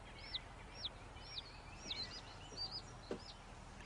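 A chick raised by a researcher in a cellar peeps in a string of high, thin chirps repeating about every half second, close and fairly clear over a faint background hum.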